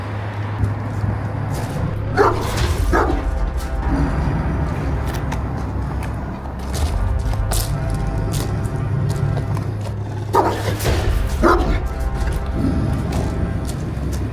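A large Anatolian shepherd dog barks repeatedly in sharp, close bursts, scattered irregularly over a low steady hum.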